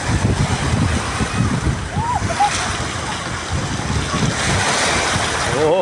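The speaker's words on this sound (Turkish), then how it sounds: "çok güzel bir dalga vardı ya" Ocean waves surge and wash onto the shore in a steady broadband roar, with wind buffeting the microphone and a person laughing and talking over the surf.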